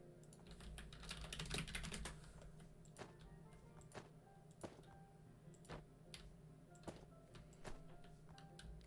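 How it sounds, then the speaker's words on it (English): Quiet, clacky computer keyboard typing: irregular close keystrokes in small clusters and single taps over a low hum, with no voices. "Sorry if you can hear my keyboard. I know it's really loud."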